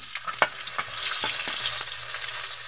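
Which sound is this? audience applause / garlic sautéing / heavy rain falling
garlic sautéing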